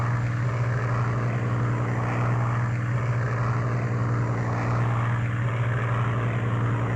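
Heinkel He-177 bomber engines in the IL-2 1946 flight simulator, a steady loud propeller drone with a strong low hum that runs unbroken throughout, no talking over it.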